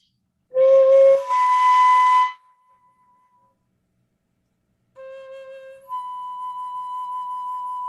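A flute in a masterclass overblown from a low fingering up to the next partial, slightly out of tune: a breathy low note leaping to a higher one, fading, then after silence a soft low tone shifting up to a steady higher pitch.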